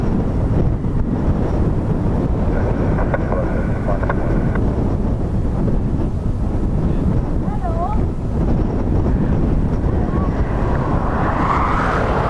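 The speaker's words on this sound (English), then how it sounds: "I can't imagine him needing too much runway now for this wind. They always have an early rotate anyway." A jet airliner taking off at Dublin Airport on a windy day, a steady broad roar that swells toward the end, heavy wind buffeting the microphone throughout, with people talking over it.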